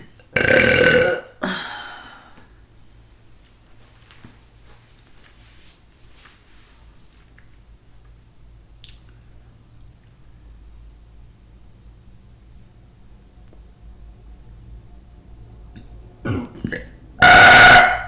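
Burping after eating Buldak ramen with imitation snow crab, two loud, raspy belches close to the microphone, one at the start and one at the end, separated by a long quiet stretch.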